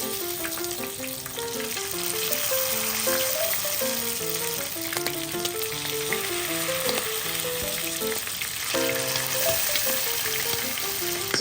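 Rice-paper-wrapped sweet and sour pork deep-fries in hot oil with a loud, steady sizzle and crackle throughout, under background music, with no talk.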